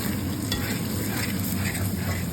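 Onions frying in a pan, a dense continuous sizzle close by with the rustle of stirring running throughout, no voices.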